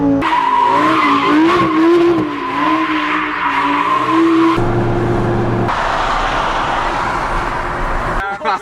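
A Lamborghini LP800-2 spins donuts, its engine roaring loud and close while the tires squeal and skid in long wavering tones, broken by abrupt cuts and shifts in pitch.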